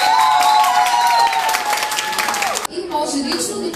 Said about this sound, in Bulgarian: Очаквам да ни подкрепят с аплодисменти.